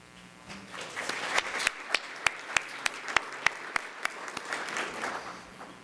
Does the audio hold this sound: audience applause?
yes